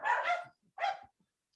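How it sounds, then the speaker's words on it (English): Two short barks from dogs present at an annual church meeting, a brief pair of moderately loud yaps separated by a short pause, then quiet. "The dogs are very much present today as well."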